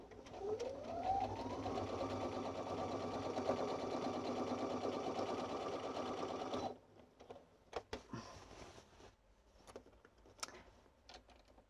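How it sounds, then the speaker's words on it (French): A sewing machine slowed down for thick fabric layers on trousers whirs up from a start, runs steadily for several seconds, then stops, followed by scattered handling clicks and rustles. "j'ai baissé la vitesse de ma machine parce que j'arrive au niveau des épaisseurs"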